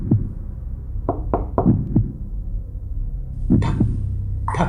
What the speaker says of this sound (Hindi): खटखटाने की आवाज आती